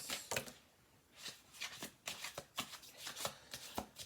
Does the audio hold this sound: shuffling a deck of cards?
yes